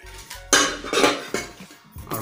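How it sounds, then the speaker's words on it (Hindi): A Hawkins Control 5-litre stainless pressure cooker with induction bottom is handled during unboxing, giving several close metallic clanks and knocks separated by short pauses. "फिर हमारा प्रेशर कुकर"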